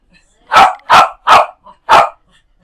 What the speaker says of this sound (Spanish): Alejandro, bájeme el perro, para que no ladra tanto